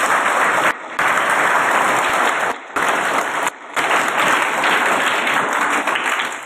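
Classroom of students applauds a young chess tutor, loud sustained clapping broken by a few brief pauses and then resuming.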